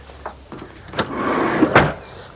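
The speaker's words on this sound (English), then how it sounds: "2 sliding doors." A Chrysler Voyager MPV's sliding door opening or closing nearby, with a few soft clunks and a rising sliding rumble that peaks in a sharp thud near the end.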